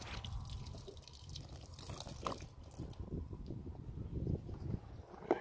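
Water drips and trickles from a gravity-feed tank on a Toyota Land Cruiser Prado 120 touring setup, a soft, steady patter close by with small irregular splashes and no talk.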